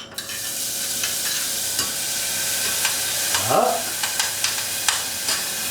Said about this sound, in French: j'ai mis de la graisse de canard dedans, je vais faire revenir les échalotes